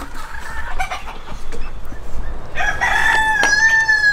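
Chickens in a breeding flock cluck and call nearby, with a rooster crowing loudly in the second half over a farmyard background.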